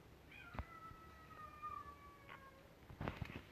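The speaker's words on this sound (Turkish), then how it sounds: "Em, benim kedim miyavlıyor." A house cat outside by a window meowing in one long drawn-out cry, followed by a few faint clicks and thumps nearby, alone against quiet room tone.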